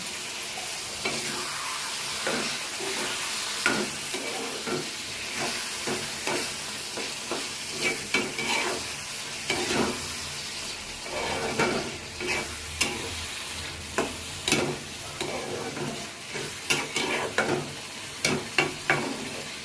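Dried ribbonfish bhuna being stirred in a pan with coriander leaves and sliced green chilies, a continuous hiss of frying with repeated scraping strokes of the spoon, close and steady, building to brisker clatters toward the end.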